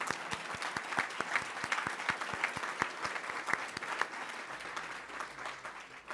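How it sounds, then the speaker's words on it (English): An audience breaks into steady, sustained applause, a dense patter of many hands clapping that fills the room for several seconds before tapering slightly at the end. "yes, that's worthy of applause"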